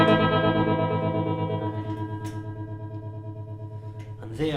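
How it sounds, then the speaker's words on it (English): An electric guitar played through a Marshall Vibratrem pedal in square wave tremolo mode holds a chord that is chopped into rapid on-off pulses, gradually fading before a fresh strum at the end. "There's the square wave sound."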